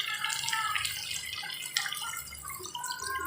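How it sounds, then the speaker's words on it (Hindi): A glass of water is poured into a pan of browned aloo chicken curry, producing a close, splashy gush with bubbling and dripping for a few seconds, with no talking. "1 गिलास पानी ऐड कर दूँगी"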